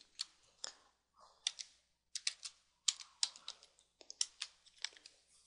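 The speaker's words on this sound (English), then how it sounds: "then we can type our first title, which is going to be the date of the wedding" Someone types a title on a computer keyboard in a quiet room, producing close, crisp key clicks in short uneven bursts with brief pauses between them.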